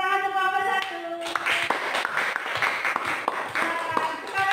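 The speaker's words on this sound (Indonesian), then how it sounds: "beri tepuk tangan untuk kelompok 1." A classroom of students claps for the first group after its presentation, a brief burst of scattered, overlapping hand claps starting about a second in, fairly close and lively, with a voice trailing off at the start.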